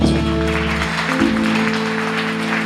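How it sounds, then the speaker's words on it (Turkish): Applause from an audience in a Gaziantep coffeehouse during a live band show, dense steady clapping over sustained musical tones, with no talk. "Büyük alkış tekrar."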